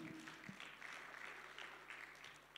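A church congregation applauding, a soft, even wash of clapping that sounds distant and faint and carries on steadily without a clear peak.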